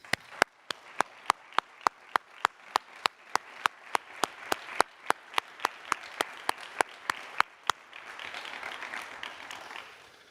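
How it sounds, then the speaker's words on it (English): A round of applause for a retiring city official during a State of the City address: one close, crisp clapper keeps a steady beat over softer crowd clapping, which swells into a denser wash near the end. "I'd like to take a moment to recognize him with a round of applause."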